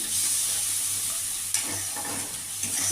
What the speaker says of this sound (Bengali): এবার মশলাটাকে কষতে থাকবো